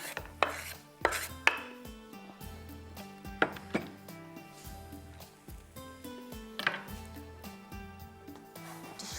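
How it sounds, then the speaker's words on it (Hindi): A knife chops onion on a board in a kitchen, a steady series of sharp close taps in uneven bursts, fairly quiet with no talking. "चलिए इसके नीचे थोड़ी सी और मैंने चॉप करनी है।"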